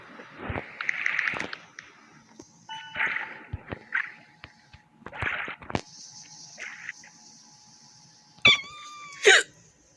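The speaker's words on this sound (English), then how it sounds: "I can't get rid of the hiccups." Hiccups from a person playing a platformer game, several short sharp bursts spread irregularly through the clip, with game sound effects and chimes around them.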